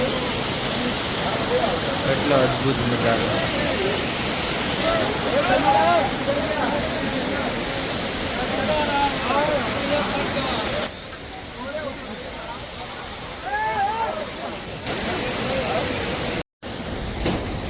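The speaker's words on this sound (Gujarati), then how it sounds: "અહીંયા એક મસ્ત ઝરણું પડે" A waterfall pours beside the Kedarnath trail between Sonprayag and Gaurikund. Its steady rushing hiss fills the background while someone talks over it, and the water grows quieter for a stretch near the end.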